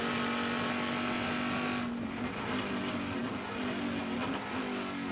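A Trans Am TA2 race car at Sebring International Raceway, its loud engine a steady, sustained roar whose pitch drops partway through, suggesting a downshift, under a constant dense wash of racing noise, with no voices.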